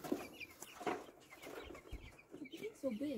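Young chicks in a coop cluck and peep in short irregular bursts, close and soft, while a person talks gently over them.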